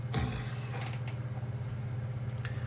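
Small screws being driven into the plastic and metal frame of a model starship kit, a near, close-up mechanical creaking and clicking against a steady low background hum, with a few faint ticks spread through the stretch.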